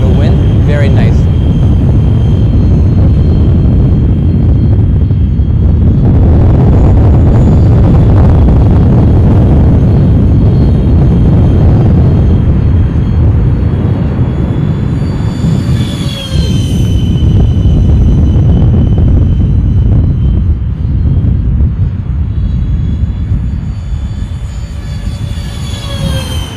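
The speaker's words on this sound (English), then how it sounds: "this is going to be the takeoff of this first maiden flight of this F-14" An Art-Tech F-14 R/C model airplane takes off at full throttle, a loud, steady rushing roar close by with a high whine over it and someone talking throughout.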